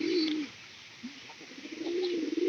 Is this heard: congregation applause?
no